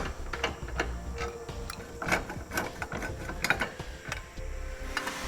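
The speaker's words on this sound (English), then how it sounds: "We'll use an 18mm socket for this." A ratchet with an 18mm socket turns bolts on a 2014 Nissan Rogue during trailer hitch installation, giving quick irregular clicking bursts of the pawl, close and fairly quiet, with no talking.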